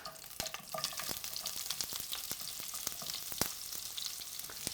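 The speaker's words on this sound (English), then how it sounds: "now it's time to add the fresh onion into the sizzling dripping" Fresh onion sizzles in hot beef dripping and Scottish rapeseed oil at a cookery demonstration, a steady close crackling fry with sharp spitting pops throughout and no talk.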